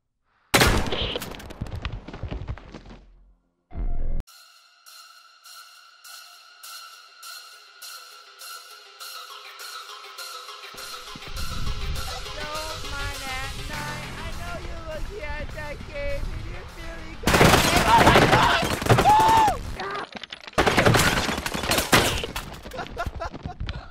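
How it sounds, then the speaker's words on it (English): Gunfire in the tactical shooter Bodycam: bursts of shots crackle over a steady hum, growing denser and louder toward the end, with excited voices talking over it. "What the fuck are you shooting at, idiot?"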